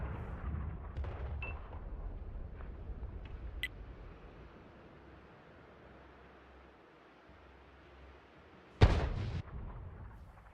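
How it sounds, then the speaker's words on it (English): Artillery fire in the video game World of Tanks, a single loud boom with a rumbling tail late in the clip, following a low quiet background with faint scattered pops. "Unfortunately, this artillery unit is not a very powerful artillery."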